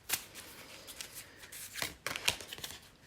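Tarot cards being shuffled by hand, a few quick riffling bursts and soft slaps of cards separated by short pauses, close and fairly quiet.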